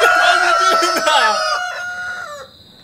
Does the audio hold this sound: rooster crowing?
yes